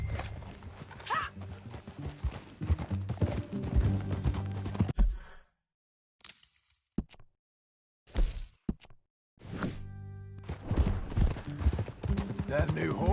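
Steady clip-clop of horse hooves in the video game Red Dead Redemption 2, under a music score and voices, pausing briefly in near silence before the trotting rhythm resumes.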